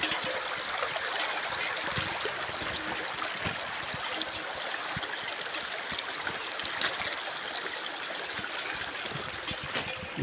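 Steady broadband rush of river water pouring over a crossing on the Salgi river along the Narmada parikrama route, a continuous close flowing and trickling wash with no talk.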